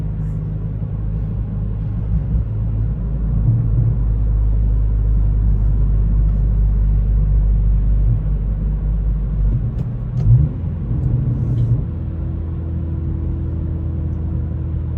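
Steady, loud low rumble of a 2023 Acura Integra with a Remark exhaust cruising in fifth gear at night, heard from inside the cabin with a droning tone that shifts slightly near the end.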